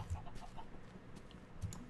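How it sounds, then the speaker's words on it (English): Minecraft chicken clucks softly in short low bursts, a few quiet clucks spaced across the moment over a dense game-noise background, without talk. "whoa, a chicken"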